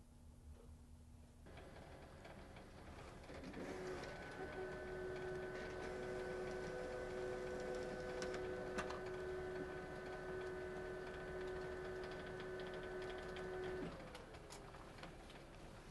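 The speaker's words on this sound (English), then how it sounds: "now I'll send the job to the Laser Imprints Go Uno by clicking the Print button here" A Laser Imprints Go Uno laser printer runs a print job on Neenah Laser 1 Opaque transfer paper, starting with a click, then a steady whirring hum with tonal whine for about ten seconds before winding down.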